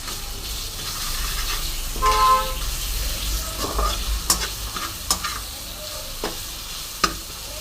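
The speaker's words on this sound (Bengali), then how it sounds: "সুন্দর করে কষে নেবো একটু আলুর সাথে" Potatoes and ground white cumin paste fry and are stirred in a pan, giving a close, continuous sizzle with scraping strokes and a few sharp utensil knocks, no talking.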